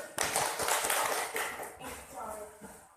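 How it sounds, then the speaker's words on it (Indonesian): Schoolchildren clap together in a classroom, a burst of quick claps early on that fades under children's voices. "Tepuk tangan dulu."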